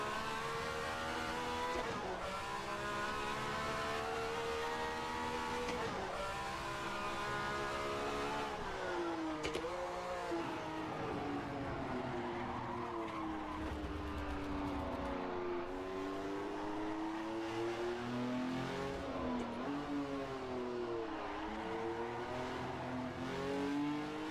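A Ferrari 312F1 racing car in a video game accelerates through first gear, its engine note climbing and dropping repeatedly in loud, continuous revving sweeps between shifts, with occasional tire noise.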